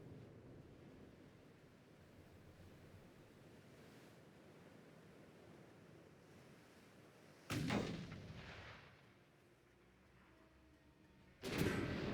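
Naval cannon fire from the warship game Ultimate Admiral: Dreadnoughts, with two heavy booming blasts several seconds apart over a steady roar of wind and sea.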